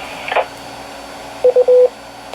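A QYT KT-8900R tri-band FM transceiver sounds short beeping tones after keying up: a brief chirp, then three quick steady beeps close together over faint radio hiss.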